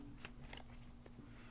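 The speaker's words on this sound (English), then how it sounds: "One more shuffle" Soft riffling and slapping of a tarot card deck being shuffled, a few quick bursts close by over a low steady hum.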